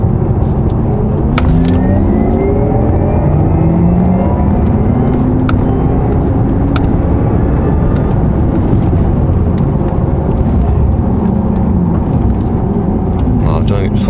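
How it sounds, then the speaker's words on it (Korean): Synthetic engine-like hum rising steadily in pitch as a 2021 Porsche Taycan Turbo S electric car accelerates, over constant road and tire noise. "이 가상 사운드가 엔진 소리와 굉장히 비슷합니다"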